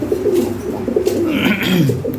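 Lahore pigeons coo loudly and close by in a continuous, throaty, rolling call that runs through the whole clip.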